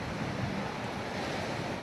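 Strong hurricane wind roars steadily through a storm, a dense unbroken rush that stays loud and constant throughout.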